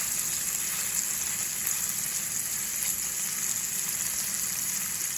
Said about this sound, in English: Nothing like lobster cooking in butter.